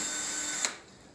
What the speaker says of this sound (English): once you have your hole completely drilled through